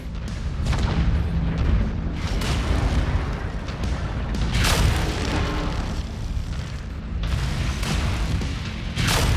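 A giant battle mech blows up in MechWarrior 5: Mercenaries, loud booming explosions rolling in repeated bursts with heavy rumble and crackling debris throughout, no talking.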